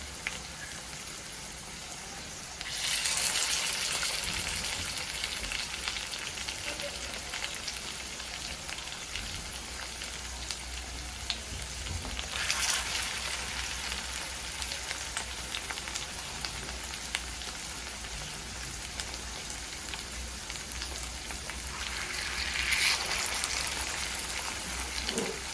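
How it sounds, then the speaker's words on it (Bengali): Potato and flour snacks deep-fry in oil over a medium-low flame, giving a soft, steady crackling hiss that swells slightly a few times. It is faint and continuous, with little or no talk. "এখন এক পিঠ ভাজা হওয়া অবধি অপেক্ষা করব"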